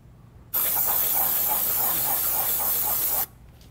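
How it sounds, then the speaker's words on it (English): Brake cleaner sprays steadily from an aerosol can onto engine parts behind the clutch of a 2006-2011 BMW 328i with the N52 engine, one continuous loud, close hiss lasting under three seconds with no voices. "We're gonna go ahead and clean that up with some brake clean."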